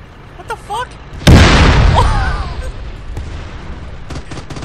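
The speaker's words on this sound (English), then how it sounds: "And self-reload gun is bouncing around and exploding and shooting." A self-reloading gun in a video game bouncing around, exploding and shooting: a sudden loud blast that decays into rumble, followed by scattered shots, with brief voice sounds before it.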